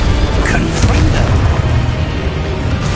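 Confringo spell blasts in Hogwarts Legacy, a dense, loud rumble of booming impacts sustained throughout with crackling bursts layered on top.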